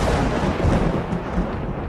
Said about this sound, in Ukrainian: Наближається гроза більше всього, бо з цієї сторони блискає у нас.